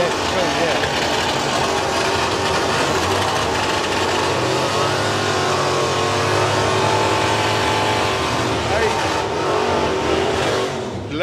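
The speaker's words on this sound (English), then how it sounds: "Let the burnouts go." Drag racing cars at the Dragstalgia 2019 event roar through burnouts, a loud continuous engine howl with revving that swells and holds for the full stretch, commentators talking over it.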